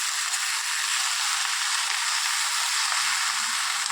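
Red amaranth greens with shrimp sizzling steadily in a pan as they are stirred, a close, even hiss with faint scraping underneath.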